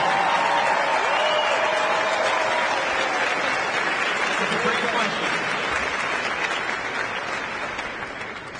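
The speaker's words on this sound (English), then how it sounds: "Give us one young round of applause." Sustained audience applause at a political town hall with a presidential candidate answering voters' questions, dense and steady throughout, fading slightly near the end, with a voice speaking over it.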